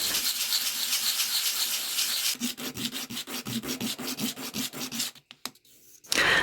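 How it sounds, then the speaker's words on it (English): Resin jewelry is sanded roughly with wet sandpaper: a dense scraping texture gives way to a quick, regular back-and-forth rubbing rhythm of a dozen or so close strokes, ending in a brief pause. "Now let's grind it roughly. If you have a wet sandpaper at home, use that because dust is very toxic."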